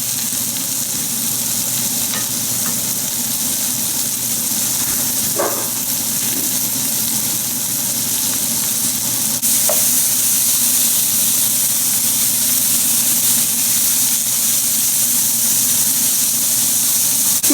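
Tofu, mushrooms and cabbage frying hot in a single layer in a pan, giving a steady close sizzle and hiss with occasional stirring clicks, no talk.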